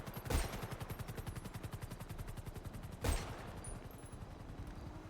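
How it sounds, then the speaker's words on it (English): Gunfire in a video game comes as rapid, evenly spaced automatic bursts that run nearly the whole time. Two heavier blasts cut through it, one near the start and one midway, and the shots sound moderately distant and clear without voices. "I open fire at him."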